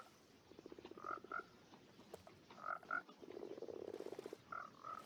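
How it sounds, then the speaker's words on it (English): Minecraft frogs croak in short pulsed bursts of rapid clicking ribbits, mixed with higher chirpy calls, repeating irregularly at close range over quiet game ambience. "there's them croaking too."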